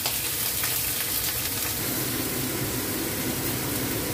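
Belly pork frying in a little oil renders its fat with a loud, steady, hissing sizzle that fills the whole span evenly, close to the pan with no voices.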